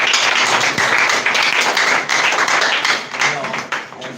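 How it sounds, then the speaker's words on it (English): Audience applause at a student defense and anniversary celebration, dense steady clapping from many hands filling the room for about four seconds, loud and continuous with a slight fade near the end. "can you please applaud for your place?"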